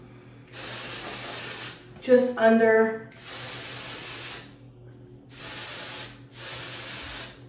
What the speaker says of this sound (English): Now I go in with some more texture spray